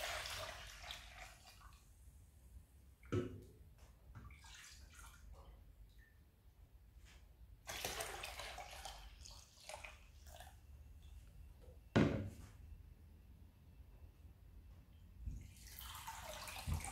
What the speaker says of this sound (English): let's start sieving this brew